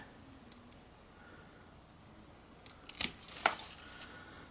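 Scissors snip through a pepper plant's stem during pruning, giving two quick crisp cuts close by against an otherwise quiet background.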